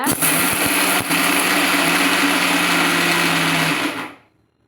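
A mixer grinder jar whirs steadily at high speed while grinding peanuts with sugar, a loud continuous motor whine that runs for about four seconds before cutting off.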